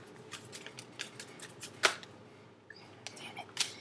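Rapid riffling and soft slapping of cards being shuffled, several quick bursts with a couple of sharper snaps, close and fairly quiet.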